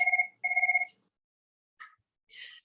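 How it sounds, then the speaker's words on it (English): A telephone rings in a city licensing board hearing room: two clear electronic trills close together, then silence, followed by a couple of faint short blips. "Sorry about that phone."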